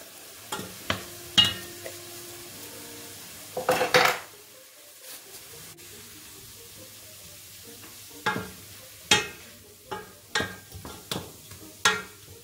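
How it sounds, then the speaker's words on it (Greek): Leek and onion sautéing in a pan, with a quiet sizzle beneath scattered sharp clinks of a utensil stirring against the pan, some sparse and some in quick bursts. "Τσιγαρίζουμε το πράσο με το κρεμμύδι για λίγο."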